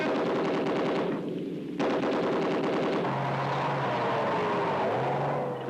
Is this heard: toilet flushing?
no